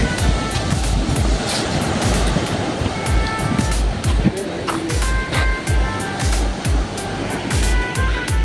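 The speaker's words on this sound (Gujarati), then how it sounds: "છે દરિયો" Sea waves roll and break continuously on the shore beside Somnath temple, a dense, steady wash of surf with wind noise against the microphone.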